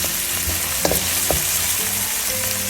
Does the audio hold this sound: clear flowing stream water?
no